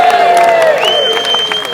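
Crowd applause at a political rally marking a 40th anniversary celebration, with cheering mixed in, steady and fairly loud throughout while a voice carries over part of it.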